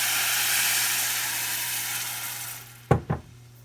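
Rice browning in melted butter gives a dense, steady sizzle that fades, then two sharp bursts sound near the end, close and fairly loud.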